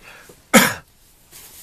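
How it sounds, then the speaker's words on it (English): One sharp, close cough bursts out briefly, followed by quiet and a faint breathy sound. "I'm coughing all the time"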